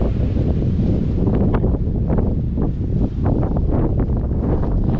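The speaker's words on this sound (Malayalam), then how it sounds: "കാറ്റ് നല്ല കാറ്റാണ്." Strong wind gusts across open green hills in Attappadi, with a continuous loud roar buffeting the microphone throughout, with no let-up and no speech.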